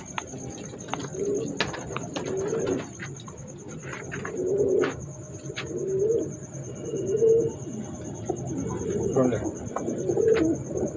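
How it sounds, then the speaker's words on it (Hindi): Star pigeons coo in a series of soft repeated throaty calls, close by, with a few chirps and light rustling and a faint continuous high whine in the background. "ये कबूतर है जी"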